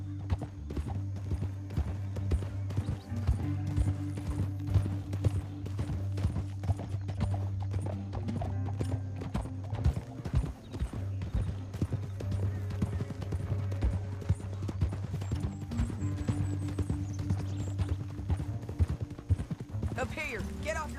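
Horses trot with steady clip-clop hoofbeats in a Red Dead Redemption 2 canyon ride, set under continuous background music and game sound, with occasional character voices speaking over the riding.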